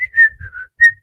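A person whistles a short, bright tune imitating Steamboat Willie, a few quick pitched phrases with a brief gap, loud and close with nothing else around.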